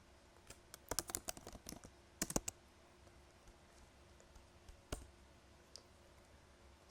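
Router commands typed on a computer keyboard, quick bursts of close, light key clicks separated by quiet pauses, with a single louder tap near the end and no voices.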